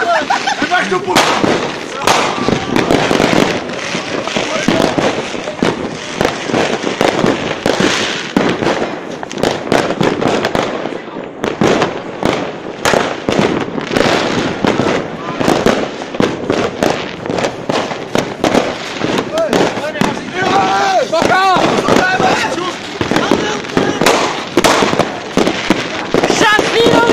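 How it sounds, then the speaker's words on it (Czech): Fireworks and firecrackers bursting at a New Year's Eve street celebration, a dense, loud barrage of cracks and bangs continuing almost without pause, with people talking and shouting among the explosions. "Máš ještě petardy?"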